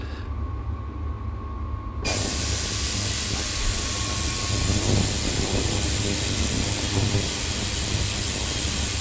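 An ultrasonic cleaner running on Honda VFR750 carburettor parts, starting abruptly after two seconds of quiet hum into a loud, constant broadband hiss and rattle that continues steadily, no talk.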